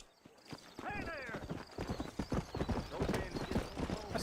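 Horse in the video game Red Dead Redemption on Xbox Series S, a loud whinny followed by rhythmic clip-clopping hooves, with someone talking over the sounds.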